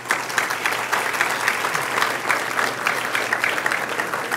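A corporate dinner audience gives hearty applause for honorees, dense sustained clapping from a large crowd filling the room at steady volume throughout.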